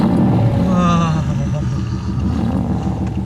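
A sports car engine growls and roars close by on a mountain road, a continuous loud rumble with rising revs, with a voice talking over it.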